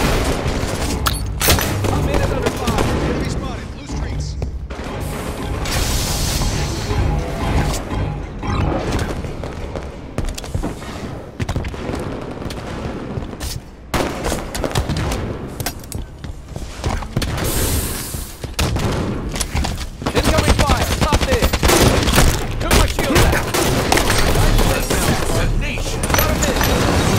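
Dense gunfire and explosions from a Halo 5: Guardians ranked Slayer match, continuous and loud throughout, with bursts, booms and in-game voice callouts mixed into the chaotic battle noise.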